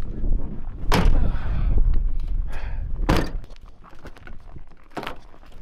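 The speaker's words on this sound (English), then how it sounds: "Yep, the door's freezing shut." Frozen truck door at minus 19 degrees being forced shut, three heavy thuds spaced a couple of seconds apart with scraping and shuffling between, close and loud.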